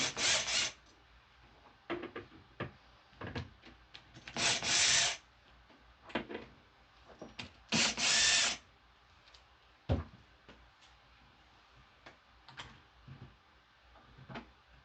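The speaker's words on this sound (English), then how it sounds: "Grab one of the screws and pull that out." Screws being worked loose and pulled out to remove the speaker grill on a Markbass bass amp, heard as close, intermittent rubbing and rasping scrapes with a few sharper bursts and small knocks, with no talking.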